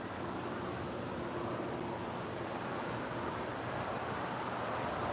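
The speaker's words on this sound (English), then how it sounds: "That right there is JetBlue Airways Flight 123 coming in from JFK." JetBlue Airbus A321neo arriving at LAX from JFK, heard as a steady, fairly faint broadband jet rumble and hiss with no clear rise or fall, and no voices.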